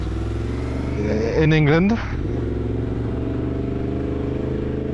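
Yamaha MT-10 motorcycle engine on a ride in England, a steady engine drone with a brief rising rev under someone talking.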